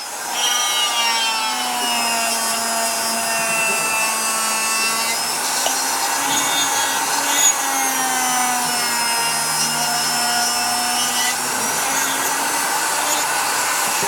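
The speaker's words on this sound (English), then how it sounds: "can then be ground once again with your flex shaft grinder into the cuff" A flex shaft grinder spins at a steady high whine while it grinds into a plastic ski boot cuff. The tone wavers slightly as the bit bears on the material, continuous and close with no talking.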